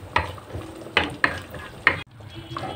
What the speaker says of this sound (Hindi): नाजरीन इसको हमने थोड़ा सा घी में फ्राई करना है